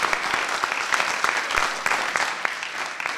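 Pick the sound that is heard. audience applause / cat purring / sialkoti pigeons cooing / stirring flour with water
audience applause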